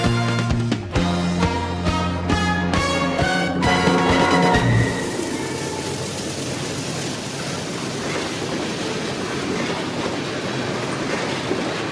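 A train horn blasts in loud chords, then Reading and Northern steam locomotive 425 rumbles past close by on a fall foliage excursion, with clattering wheels and a steady roar.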